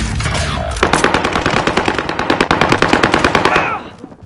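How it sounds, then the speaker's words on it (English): Rapid automatic gunfire in a PlayStation-versus-PC online shooter game, loud sustained bursts of closely spaced shots after a brief quieter start, fading out near the end, with no talk over it. "I hear all gunfire."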